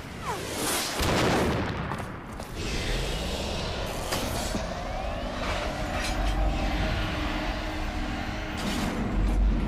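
A boss in Metal Gear Solid 2: Sons of Liberty fires guns from its arms, heavy booming shots and rumbling mechanical noise over a continuous roar, with a loud blast near the start and layered impacts afterward.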